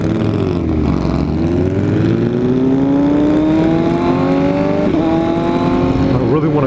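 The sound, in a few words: motorcycle engine revving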